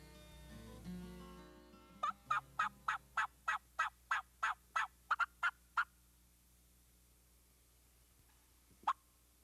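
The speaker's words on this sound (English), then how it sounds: "He changed from excited cuts and yelps to just soft clucks." A rapid series of about a dozen soft clucks from a wild turkey during spring hunting, evenly spaced, then a pause and one more single cluck, fairly close with no talking.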